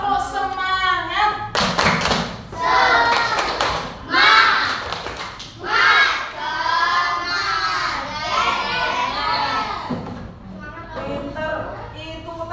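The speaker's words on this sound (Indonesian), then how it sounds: "Sebelum kita tutup, kita tepuk dulu biar semangat." A classroom group of children and teacher doing a rhythmic spirit clap, bursts of loud hand claps in patterned runs mixed with chanted voices, close and lively, continuing for most of the stretch.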